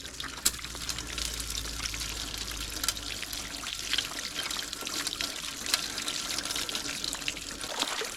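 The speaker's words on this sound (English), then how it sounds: "A little cleanup hose to be able to clean everything up." A cleanup hose sprays water onto a high banker at a gold prospecting test run, giving a steady, close hiss and splatter with occasional sharper splashes throughout.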